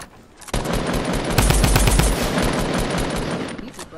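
Rapid automatic gunfire in a Fortnite battle royale duo match, loud and close, with a dense burst of shots running for several seconds before it cuts off.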